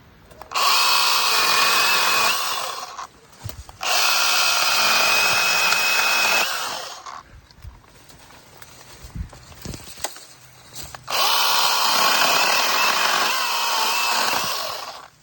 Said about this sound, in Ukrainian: Все, починаємо пиляти.